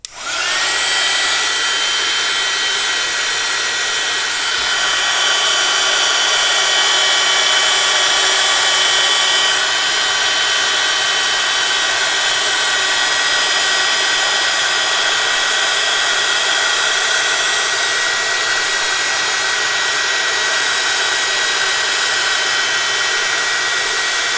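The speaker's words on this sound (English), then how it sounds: "I'm just going to put my heat gun on for a few seconds and let it warm up" A heat gun warming up for heat embossing powder on a stamped card, giving a loud, steady whooshing roar with a faint whine that starts almost at once and runs unbroken for about 24 seconds.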